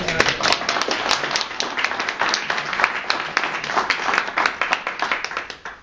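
A small group claps vigorously at close range, with sharp individual hand claps standing out in a quick, uneven patter that fades toward the end, with no voices heard.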